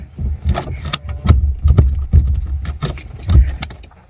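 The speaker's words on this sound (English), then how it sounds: "Take key out, locks." Key pulled from a car ignition switch with the steering lock engaging, giving a run of close metallic clicks and jingling keys, fairly loud and with no talk.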